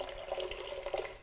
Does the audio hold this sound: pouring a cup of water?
yes